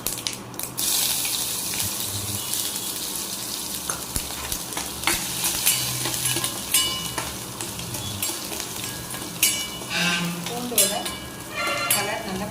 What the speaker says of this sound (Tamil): பொன்னிறமும் மாறுற வரைக்கும் அந்த எண்ணெயிலேயே நல்லா வதக்கிட்டு